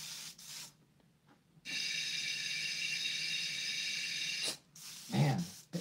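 An airbrush sprays paint in a long steady hiss, loud and close, broken by short pauses and faint mechanical clicks of the trigger.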